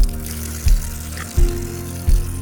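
Alpine spring water runs from an outdoor tap at Lake Bled, Slovenia, a steady splashing rush with three low thumps spaced through it.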